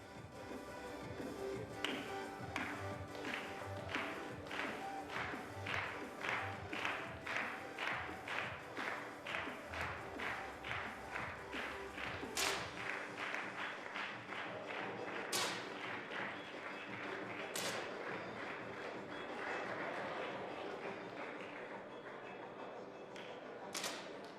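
Air pistol shots ring out one after another at a 10m men's European Championship final in Maribor, sharp cracks with target clicks, fairly evenly spaced over a steady hall murmur and faint crowd noise.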